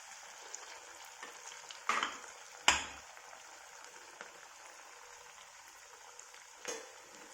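Sabudana vadas fry in hot oil with a quiet, continuous sizzle, broken by a few sharp clacks and splashes as pieces settle, and no voices.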